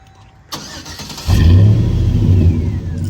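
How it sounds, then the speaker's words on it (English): A custom truck's engine cranks and fires, then settles into a loud, deep exhaust rumble close by, holding a strong throaty idle with slight revving after startup. "Here's your little sound bite of the exhaust."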